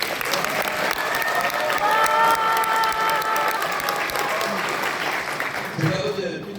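An audience at a book launch event in the Daegu Grand Hotel claps in sustained, dense applause, with a voice speaking over it.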